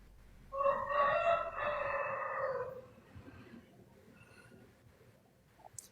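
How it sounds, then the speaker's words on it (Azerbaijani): A rooster crows once, loud and close, in a long drawn-out call that fades into a quiet outdoor background with a faint click near the end. "Xoruzun banlayır, görsənə də banlayır"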